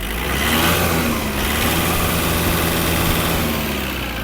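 A small engine of a Mitsubishi MT-265 Japanese mini tractor runs steadily at a raised, busy pitch, a continuous loud drone with slight fluctuations throughout.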